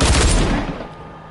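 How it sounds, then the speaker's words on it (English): Rapid AR rifle fire in a shooter video game, a loud, dense burst of gunshots that cuts off and trails away into a brief echoing decay. "Shoot him with the AR."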